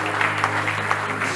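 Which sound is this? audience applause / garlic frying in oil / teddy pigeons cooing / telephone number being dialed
audience applause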